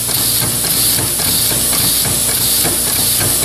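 A homemade steam engine with a flywheel runs steadily, giving a loud, constant hiss of steam over a rapid, even mechanical chuffing and knocking, close up with no talk.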